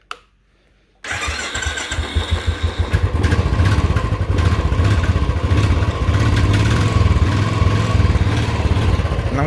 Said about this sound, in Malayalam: സോ അതിൻ്റെ ഒന്ന് സ്റ്റാർട്ട് കാണിച്ചിട്ടുണ്ട് എൻ്റെ സ്റ്റോക്ക് സൗണ്ട് എങ്ങനെയാണെന്ന്.